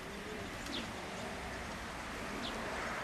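A racing pigeon coos softly after landing at the loft during a club race, faint low murmurs over steady outdoor background with a couple of brief higher chirps.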